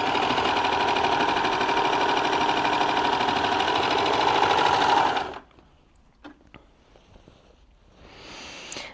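Baby Lock Enlighten overlocker gathering fabric at maximum differential feed and stitch length, a fast, loud, steady whir for about five seconds that stops abruptly, followed by quiet handling clicks and faint rustling.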